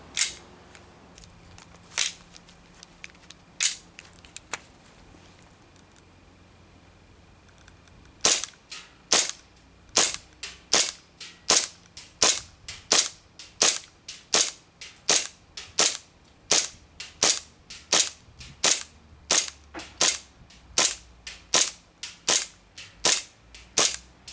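Handgun emptying a full magazine: several scattered sharp shots, then a long, steady run of roughly twenty crisp, closely spaced reports fired at an even rhythm, close and loud, with no talking.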